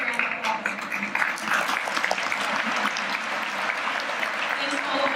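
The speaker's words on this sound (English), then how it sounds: "Let's give these guys a big round of applause." Audience applause for school administrators, steady dense clapping from a crowd that holds evenly throughout, with some voices mixed in beneath it.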